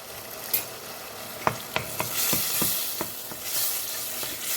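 Tomato and pepper paste frying in a pan, a dense close sizzle with a series of sharp scraping taps as it is stirred, loud and steady with no talk.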